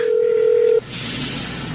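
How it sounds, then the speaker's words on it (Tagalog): A cellphone rings with one loud, steady electronic tone that cuts off abruptly, leaving low background noise. "nagre-ring ng cellphone ni ate"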